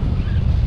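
Strong outdoor wind buffets the microphone in cold weather, a loud, rumbling low roar with gusty flutter that fills the brief moment without any talk.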